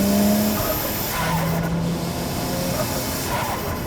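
A Nissan Skyline R34 GT-R V-Spec II is on the move, heard from the cabin as a steady, loud broadband roar of engine and road noise with a faint hiss that barely changes over the few seconds.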